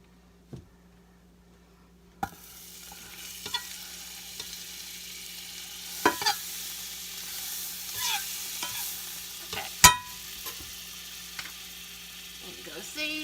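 Chicken bacon tortilla wraps frying in butter in a pan, a soft steady sizzle with occasional scrapes and clatters of a utensil, fairly quiet and close.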